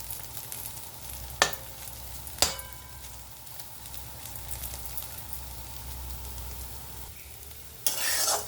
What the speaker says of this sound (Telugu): బ్రౌన్ కలర్ వచ్చే వరకు వేగించుకుందాం